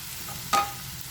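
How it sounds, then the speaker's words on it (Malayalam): Small onions (shallots) sauté in hot oil with a soft continuous sizzle, broken by one brief scrape of a spoon stirring the pan. "ഇനി നമ്മുടെ ചെറിയ ഉള്ളി ചെറുതായിട്ടൊന്ന് വഴറ്റിയെടുക്കണം"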